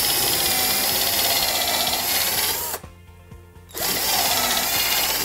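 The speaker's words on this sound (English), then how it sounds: "We start off by drilling pilot holes in first." Drill driving pilot holes into pallet wood, a loud continuous whine that drops out for about a second midway and then resumes, close by.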